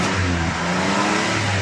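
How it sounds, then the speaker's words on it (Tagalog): A Toyota Corolla 1.5 engine (M1.5A) with a coolant leak into the combustion chamber and white exhaust smoke runs at a steady, loud idle, with a constant low hum and no breaks. "Ito na yung makina ng Toyota Corolla mga ka-GM na binaklas ng kasamahan ko"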